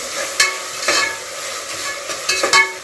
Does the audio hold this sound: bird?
no